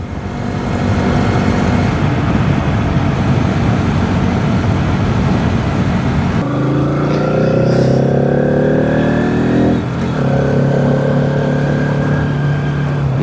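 A motorbike rides along a road on a long trip toward Chikkamagaluru, its engine droning loudly with wind rush. Partway through, the engine note shifts and rises steadily as it accelerates through the gears.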